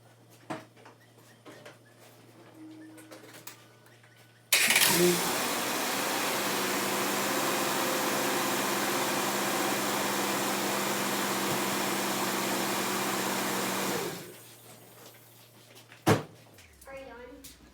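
A 2005 Ford Ranger engine is started after an oil change, cutting in abruptly and running as a steady loud hum for about ten seconds before shutting off, with quiet handling noises before and after.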